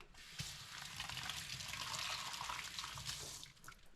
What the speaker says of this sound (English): Just gonna wash them out.